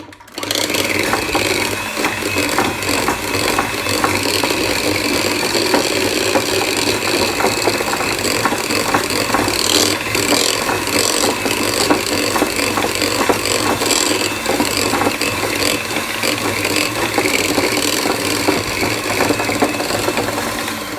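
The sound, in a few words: mixer churning supermarket cream into butter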